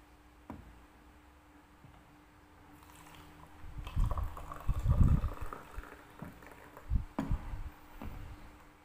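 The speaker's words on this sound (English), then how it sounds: "pour hot water." Hot water is poured into a cup to make coffee, a soft liquid trickle and gurgle that swells in the middle with a few clinks of the cup, heard close up and fairly quiet with no voices.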